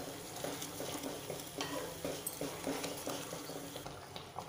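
Coconut burfi mixture stirred steadily in a pan over medium gas, with soft repeated scraping strokes over a faint continuous sizzle, close and fairly quiet, no talk.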